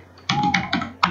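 Keys clack on a computer keyboard in a quick burst of about four close, crisp taps with short gaps between them.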